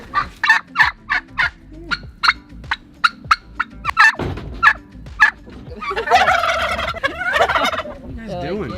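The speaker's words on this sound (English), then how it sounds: "you guys aren't even a year old, and yet you look like full-grown turkeys" Young turkeys gobble and call repeatedly up close, in a quick series of loud, warbling bursts followed by an overlapping, more continuous chorus of rough gobbles near the end.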